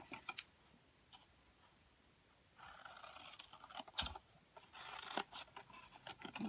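Scissors snip notches into a cardboard energy drink carrier, a series of short, sharp cuts and scrapes close by, with quieter handling rustles between bursts.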